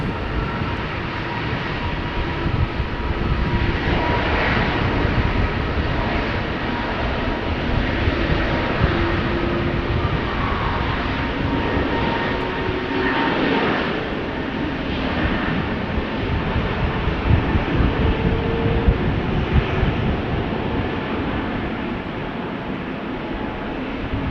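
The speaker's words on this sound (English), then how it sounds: "The A321 to Berlin is now going." An Airbus A321 departs Amsterdam Schiphol for Berlin, its engines giving a broad, steady jet roar that holds loud and even for the whole stretch, with faint tonal whines shifting above it.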